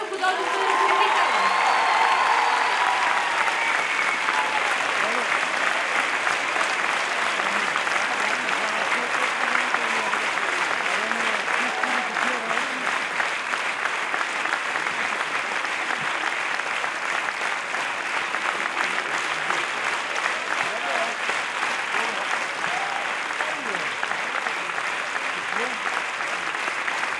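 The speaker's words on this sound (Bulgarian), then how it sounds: "И аплодисменти за Марио Егов, главен художествен ръководител" A long, sustained round of applause for Mario Egov, chief artistic director of an ensemble, from a large concert crowd, with scattered cheers and whoops and murmuring voices beneath the steady clapping.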